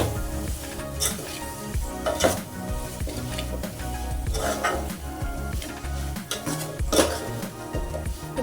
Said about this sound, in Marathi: मला छान असं परतवून घेऊ थोडंसं तेल सुटेपर्यंत मला परतवून घेते